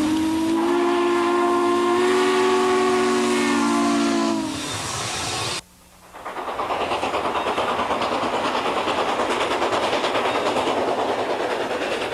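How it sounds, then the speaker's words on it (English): A train whistle blows a long steady blast, then cuts off; after a brief hush, a train pushing a Russell snow plow through falling snow rumbles and clatters past rhythmically, fairly loud. "a Russell plow was pushed through the falling snow."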